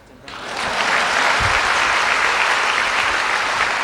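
About 1,700 people in a large hall at a dharma talk break into applause, swelling within the first half second into a loud, sustained, even roar of clapping.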